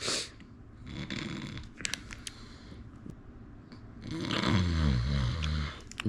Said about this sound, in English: The snoring is ridiculous.